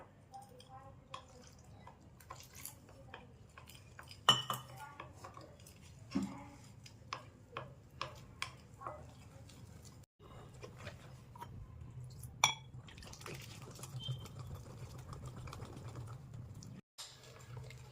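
A gram flour and rice flour batter with turmeric, salt and a little water is stirred in a bowl, giving quiet, irregular wet squishes and soft clicks with brief pauses.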